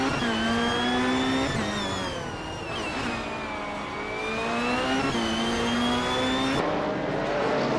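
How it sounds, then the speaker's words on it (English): A 1998 Porsche 911 GT2 race car engine roars loud and close, holding a steady high-revving drone with gear shifts and pitch swells throughout, no voices. "Rowdy Zerolf is driving a 1998 Porsche 911 GT2"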